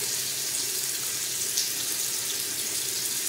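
Steady running water from a bathroom sink tap while someone scrubs their face with an exfoliant, a continuous close hiss and splash with no talking.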